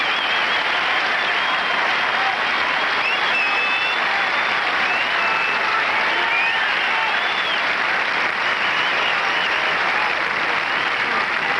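Sustained golf gallery ovation for Nick Price at the 1988 Open Championship: dense, steady applause and crowd noise holding at full strength throughout, with no gaps.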